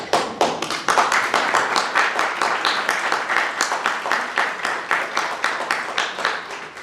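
Applause at a public forum on a lakeside city, heard as rhythmic, fairly sparse clapping from a modest group, distinct individual claps beating steadily throughout.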